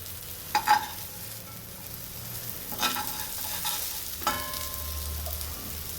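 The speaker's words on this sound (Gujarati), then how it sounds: "એક મિનિટ જેવું થઈ ગયું છે, તે આપણે ટીકીને પલટાવી લઈશું" Green peas tikki sizzle steadily as they fry in a pan, a close, even crackle with a few brief clinks and scrapes of a utensil, and no talk.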